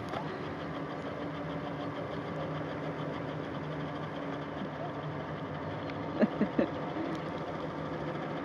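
A boat motor idles on a fishing outing, a steady, close, low rumbling hum that runs unbroken throughout, with a few brief knocks near the end.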